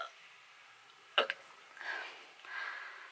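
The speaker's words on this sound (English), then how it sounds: "I literally never have to burp until I film a video." Brief close burp, a short sharp vocal pop with a small follow-up, then faint breathy voice sounds in a quiet room.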